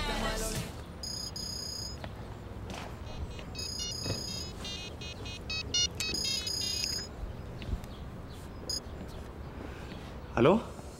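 A mobile phone left behind in an office rings with bright, repeating electronic tones in bursts, moderately loud, while people talk nearby.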